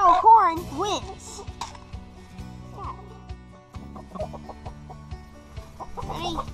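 Chickens clucking and squawking close by while competing for a kernel of corn in a backyard game, with short rising calls at the start and end over a low steady hum, and a person talking in between.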